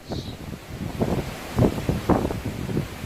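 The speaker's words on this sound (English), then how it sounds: "Okay, now we're getting some gusts." Wind gusts before a hurricane buffet a microphone in rising and falling surges, a rough low rush that swells and eases over a few seconds.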